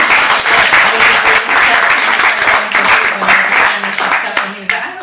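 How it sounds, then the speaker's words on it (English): A theater audience applauds the cast with dense, sustained clapping, fairly close and loud, with voices mixed in underneath the clapping. "Round of applause for them"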